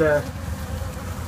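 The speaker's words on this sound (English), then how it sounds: "I got my hand in amongst hundreds of bees right now." Hundreds of honeybees buzz around a bare hand pushed in among them, a steady low drone that stays close and continuous throughout.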